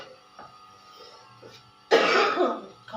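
A single sharp cough bursts out near the end in a village kitchen, loud and close, after quiet background noise with faint small sounds.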